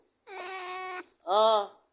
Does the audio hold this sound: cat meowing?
yes